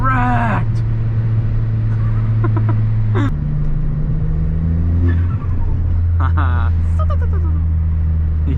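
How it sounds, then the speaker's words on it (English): Four-cylinder Ford Fiesta ST engine droning loud and steady from inside the car, pitch stepping down at a gear change then holding, with voices talking over the engine noise. "You thought you could only hear that in R34s and Supras? Try 4-cylinder Fiesta ST."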